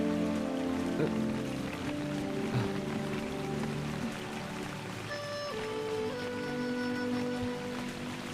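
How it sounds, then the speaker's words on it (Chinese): Steady rain patters continuously, with a faint sustained musical tone running beneath it. "外面风大雨大"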